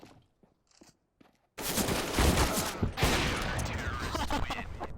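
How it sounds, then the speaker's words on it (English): Video game gunfire with AWP sniper rifle shots, a sudden loud sustained burst of shooting and impacts that follows a few quiet soft sounds and continues densely to the end. "Thank goodness for that jumping AWP shot"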